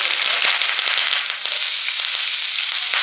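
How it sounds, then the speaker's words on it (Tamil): Mustard seeds and fenugreek pop in hot oil for a Tamil brinjal kuzhambu, a loud, dense, close hiss of frying dotted with quick sharp crackles and pops, with no talk. "இதில் கொஞ்சோண்டு வெந்தயம், கடுகு பொரியட்டும்."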